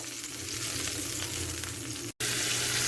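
Chicken pieces for a homemade chicken fricassee browning in a pan, a loud continuous close frying sizzle that cuts out briefly near the end and then resumes.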